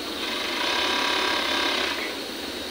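An overlock sewing machine runs a test seam, a loud, close, rapid mechanical whirring and rattling that holds steady for over two seconds and then eases off, with no voices.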